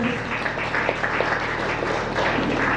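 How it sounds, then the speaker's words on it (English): Audience at a youth civic town hall gives a round of applause, dense and steady clapping from many hands filling the room for the whole stretch, loud and close, with no voices on top. "Please, can you give them a round of applause?"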